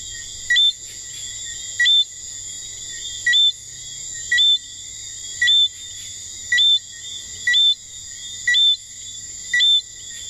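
A St. Lucia tree frog calls repeatedly, sharp high chirps recurring about once a second in a steady rhythm over a constant buzzing insect-like hum, fairly near and clear.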